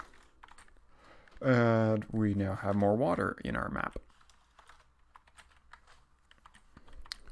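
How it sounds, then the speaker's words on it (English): Rapid clicking of typing on a computer keyboard, sparse at first and busier toward the end, with someone speaking over part of it. "I'm having trouble typing right now."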